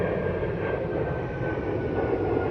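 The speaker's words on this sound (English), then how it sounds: "got a plane going by." An airplane passes overhead as a steady, continuous broadband rumble that holds at an even loudness throughout, with no voices over it.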